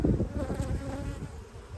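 A hive full of Italian honey bees, a strong colony in winter in South Alabama, gives a dense, steady buzzing hum up close, with no voices.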